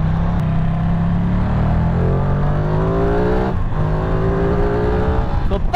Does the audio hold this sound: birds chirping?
no